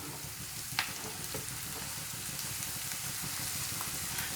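Beans, carrot and mushrooms stirred while frying for egg fried rice, a steady close sizzle with soft scrapes of the spoon and one sharper knock near the start, no voices.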